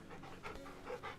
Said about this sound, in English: Pet the dog.